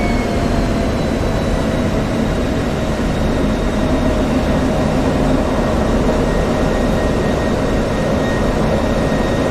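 Steady, loud jet engine roar from an aircraft in the DCS World flight simulator over the Persian Gulf, a continuous broadband rumble with faint whining tones and no breaks.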